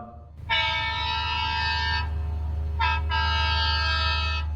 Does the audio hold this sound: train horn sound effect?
yes